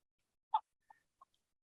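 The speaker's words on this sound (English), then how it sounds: "is there like a chicken or a rooster in your background?" An animated chicken from the movie Moana gives one sharp cluck followed by two softer, shorter clucks, clean and isolated against silence.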